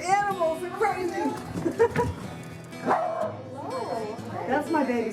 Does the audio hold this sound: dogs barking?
yes